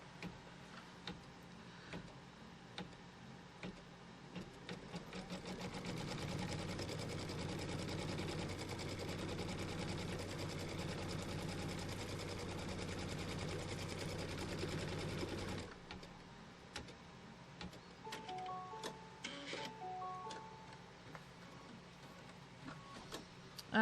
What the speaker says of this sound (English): put the foot down and let's stitch this placement line down